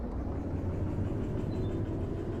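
A train locomotive in the railway game Derail Valley starts to move, producing a deep continuous rumble with low mechanical drone that holds steady and close throughout, no voices.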